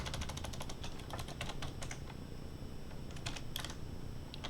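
Rapid clicking keystrokes on a computer keyboard come in quick uneven bursts with brief pauses, close and fairly quiet over a low steady hum.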